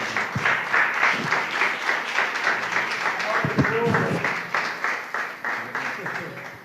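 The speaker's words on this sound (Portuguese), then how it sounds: "Aplauda o Senhor." A church congregation claps during a worship service, steady rhythmic applause filling the room, with a voice briefly heard over it partway through before the clapping tapers.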